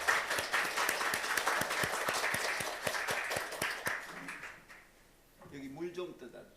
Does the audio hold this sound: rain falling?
no